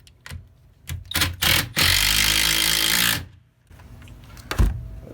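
A part is hammered onto a twin-turbo Ford EcoBoost engine using the original 8mm screw: several sharp metallic knocks, a loud sustained rattling burst of about a second, then a pause and a final heavy strike.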